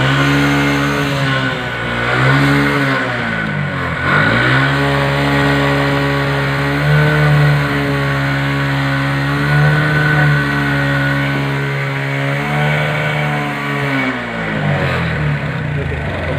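A Bajaj Platina motorcycle with a smoking problem runs after being started, its engine revving up and dropping back in repeated swells, close and loud, while someone speaks over it.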